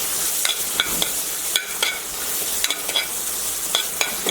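Two small onions frying lightly in a pan with oil and aromatics, a soft steady sizzle broken by repeated clicks and scrapes of a spoon stirring, close and moderately loud, with no voices.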